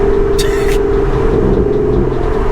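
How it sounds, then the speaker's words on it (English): A stock Mitsubishi Lancer drives past through busy traffic, its steady engine rumble and a low droning whine sitting in a constant wash of road noise. "And then a stock Lancer going behind."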